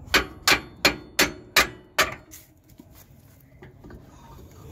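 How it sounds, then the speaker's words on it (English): A sledgehammer pounds the air suspension of a 2006 Lincoln Navigator Limited Edition, six sharp metallic blows in a quick, even rhythm, close and loud, then faint shuffling and handling noises. "Okay, you got a sledgehammer."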